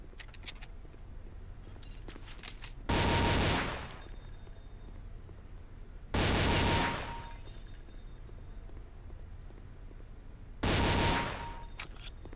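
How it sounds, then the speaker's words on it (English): Gunfire in Counter-Strike: Condition Zero training, three loud short controlled bursts spaced a few seconds apart, with quiet room tone between them. "use short controlled bursts to ensure accurate targeting. Engage 3 targets to continue."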